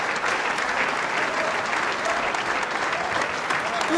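A large audience applauds at the conclusion of the 2018 World Snooker Championship final, a dense, steady wash of clapping that holds at an even level throughout.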